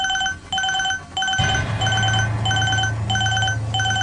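A mobile phone alarm rings in repeated bright electronic bursts, loud and close, with a low steady hum entering partway through.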